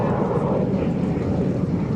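A Canadian T-33 Shooting Star jet with a Rolls-Royce engine at an air show, its engine roaring as a broad, steady, loud rush that holds constant across the whole clip, with no talk heard.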